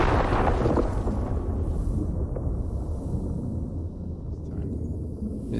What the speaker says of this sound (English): It was clearly like an explosion from the mine